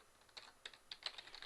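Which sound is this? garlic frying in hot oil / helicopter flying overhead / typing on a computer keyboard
typing on a computer keyboard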